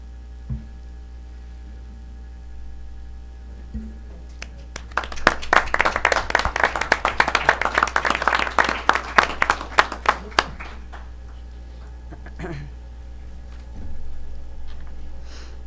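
Audience applause at a meeting, a burst of many hands clapping that swells for about six seconds in a room with a steady background hum, then thins out to a few scattered claps.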